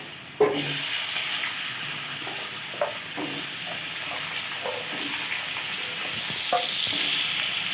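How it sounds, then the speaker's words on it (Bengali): Potatoes fry in oil at a loud, steady sizzle, with occasional stirring clacks and small spits breaking through the constant hiss. "ওই তেলেতেই এবার আমি আলুগুলোকে ভেজে নিচ্ছি আলুগুলো দিয়ে দিলাম তেলের মধ্যে"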